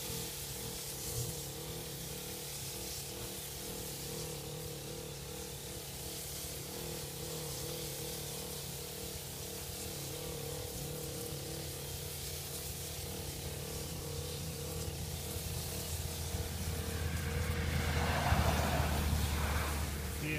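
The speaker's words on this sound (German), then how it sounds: "Und zum Spritzen haben wir da eine Birchmeier Rückenspritze mit Akku." A battery-powered Birchmeier backpack sprayer runs with a steady electric motor hum and a fine hissing spray over garden roses and lilies, continuous and close, swelling slightly near the end.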